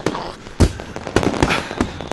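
Fireworks in the visual novel Katawa Shoujo pop and crackle in a quick series of loud bursts and rumbles at a festival show seen from indoors.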